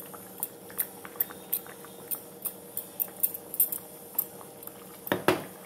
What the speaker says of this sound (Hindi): इसको थोड़ा सा मिक्स कर देते हैं, इससे पालक पनीर का टेस्ट और बढ़ जाता है।